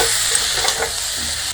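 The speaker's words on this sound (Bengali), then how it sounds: "বেগুনের সাথেও একটু কষিয়ে নেব" Eggplant and potato being stirred and fried in spices in a pan, giving a steady close sizzle with scraping stirring strokes throughout and no talking.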